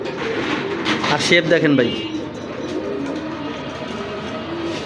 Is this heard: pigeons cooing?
yes